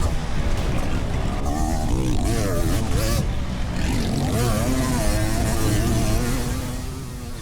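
Motocross bikes race past, a 500cc Yamaha two-stroke among four-strokes, their engines droning and rising in pitch under continuous commentary and crowd noise.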